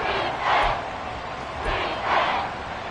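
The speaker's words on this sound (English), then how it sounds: "This crowd doing all they can." Stadium crowd noise from the Madden 24 football video game near the goal line in a Packers game, a roaring mass of voices that surges twice in broad swells.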